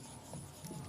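A brief scratch of writing on a board as an equation is written out for a Wheatstone bridge lesson, short and fairly quiet.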